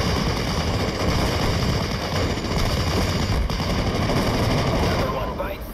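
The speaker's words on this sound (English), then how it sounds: "Putting a decent amount of fire on him, but here come the mortars." Sustained, dense machine-gun fire and gunshots in a war video game, with mortar rounds landing among the steady loud barrage for the whole stretch, under muffled voice chatter.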